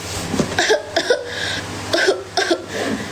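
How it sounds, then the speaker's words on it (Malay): A few short, sharp coughs in quick bursts, spaced apart, close to the listener, with a low steady hum underneath. "Batuk. Kita tak sihat,"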